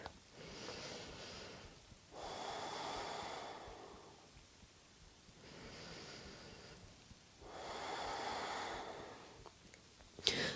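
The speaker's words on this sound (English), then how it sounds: "As you breathe in, find some length, and as you breathe out, find some depth." Slow, deep yoga breaths during a seated twist, long inhale and exhale cycles rising and falling about every three seconds, close and fairly soft, with no talking.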